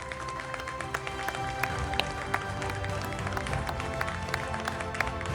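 An audience at a directors' awards ceremony claps in a dense, continuous burst of applause that holds steady at moderate loudness for the whole stretch.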